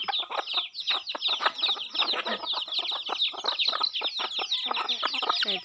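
Two-day-old chicks cheep and cluck almost continuously while pecking at uncooked rice, a dense chorus of high, rapid chirps close by with no talking.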